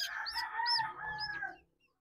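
Chickens in a coop give a short burst of close, loud clucking and squawking calls that fade out after about a second and a half.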